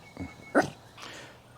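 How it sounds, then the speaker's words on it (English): A small dog behind a garden fence yaps at people walking past: two or three short, sharp yaps close by, then quiet. "you probably heard just a yap a moment ago from some people walking past on the other side of the fence"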